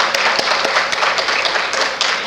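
An audience at a bank and Rotary lecture series applauds, dense steady clapping from many hands over a couple of seconds.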